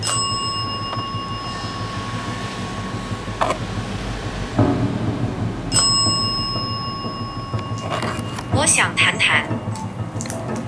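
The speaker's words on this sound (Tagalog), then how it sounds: "Maybe since it wants to talk, we should turn off the dead bell?" Ghost-hunting bell device inside an abandoned hospital in Taiwan rings with clear, sustained chimes twice, alongside scattered knocks, creaks and quiet background rustle, with people talking softly at times.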